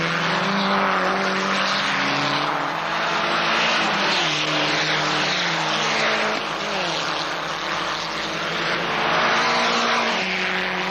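Peugeot 505 Turbo race cars in a 1986 one-make trophy event roar past at very high speed, a loud continuous engine drone with shifting pitch that rises and falls throughout, no voices.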